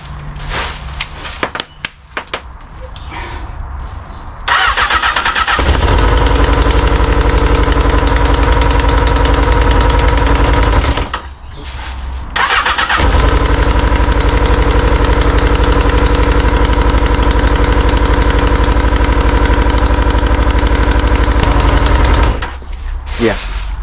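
A Honda Hornet motorcycle engine, rebuilt after a crash and with its exhaust just refitted, cranks and then catches into a loud, rapid, pulsing idle. It cuts out briefly around the midpoint, restarts and keeps running close to the mic.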